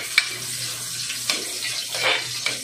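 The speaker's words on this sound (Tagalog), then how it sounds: "Piniprito ko na." Fish sizzles as it fries in a pan of hot oil, a steady broadband crackle with a few sharper pops and spatters near the start, middle and end.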